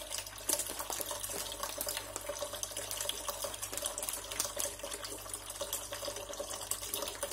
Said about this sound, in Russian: Вот, сейчас наберем воды.